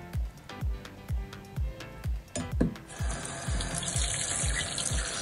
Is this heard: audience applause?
no